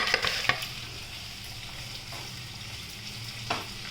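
Bangalore chillies sizzle as they fry with onions in a pan, a steady close crackle with a few sharp stirring clatters near the start and one more toward the end, with no voices.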